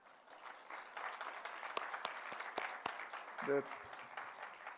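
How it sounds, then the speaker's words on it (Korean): A church congregation at a New Year's Eve service at Handong University claps in welcome for newcomers, a moderate wash of applause under a brief spoken word and a congregation voice. "우리 환영의 박수 하도록 하겠습니다"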